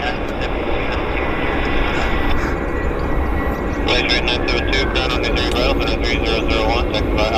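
A plane on its landing at Vancouver International Airport, YVR, gives a steady, broad roar of engine and rushing air that swells slightly near the end, with a voice talking over it.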